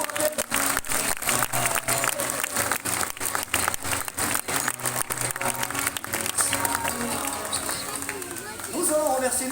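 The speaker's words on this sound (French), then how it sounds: "je pense qu'on peut applaudir encore bien fort Vénus et Grace pour ce beau rappel" An audience at the Beauval zoo sea lion show claps loudly and steadily, with crowd babble mixed in and a voice speaking through part of it.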